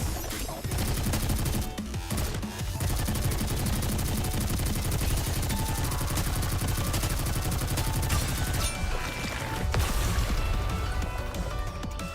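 Sustained rapid gunfire in the shooter game Goddess of Victory: Nikke, a dense machine-gun stream running nearly the whole time with brief breaks near the start and middle, loud over game music.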